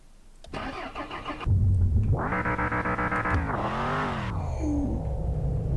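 A rally car's starter cranks briefly, then the engine catches with a loud, close roar, settles into a steady idle with a short blip of revs, and drops back to a rumbling idle.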